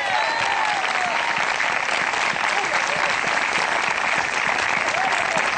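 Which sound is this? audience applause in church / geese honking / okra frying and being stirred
audience applause in church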